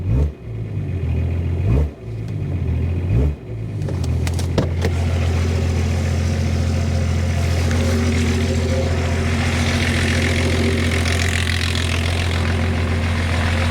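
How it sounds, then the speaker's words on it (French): A vehicle engine running after treatment for a knocking fault idles with a low steady drone, revs with a couple of dips early on, then settles into a loud, even hum. "On n'entend même plus le moteur claquer, quoi."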